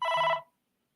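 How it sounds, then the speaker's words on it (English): A phone notification chime sounds once, a short bright ringing tone lasting about half a second, close and clear, then cuts to silence. "that was a notification from my phone"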